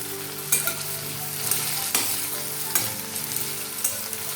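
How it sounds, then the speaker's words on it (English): Potatoes fry in a pan for a Bengali mixed vegetable dish, a steady close sizzle broken by soft scraping taps as they are stirred about once a second, with no talking. "I'll stir it till I see some color change in the potatoes"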